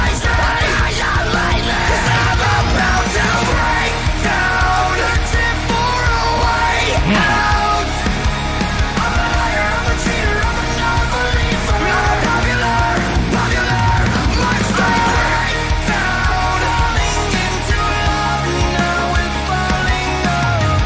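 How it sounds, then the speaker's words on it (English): A loud, sustained vocal scream in a metal song, carried over dense distorted guitars, bass and drums that fill the whole stretch. "That scream."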